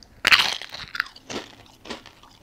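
A bite into a thin, crunchy keto low-carb flatbread gives a sharp, close crunch, followed by a few softer crunching chews over about two seconds.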